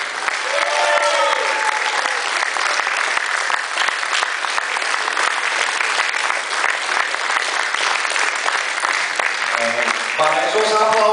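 Sustained, dense applause from a festival audience at the closing ceremony of a film and art festival, steady and loud throughout, with a voice speaking over it near the end.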